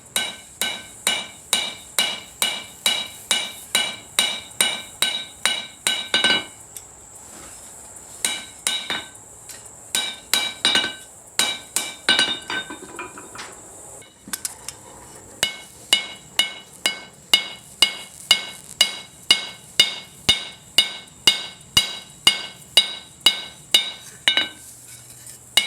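Hammer blows ring out on a steel blade over an anvil while beveling a Higo no Kami style friction folder, loud regular clinking strikes in rapid rhythmic runs with a few short pauses between bursts.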